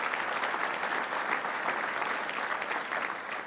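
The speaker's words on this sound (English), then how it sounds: "So big round of applause for them." A dinner audience at a sports hall of fame awards banquet applauds, a loud, sustained, even roar of many hands clapping for several seconds with no talk over it.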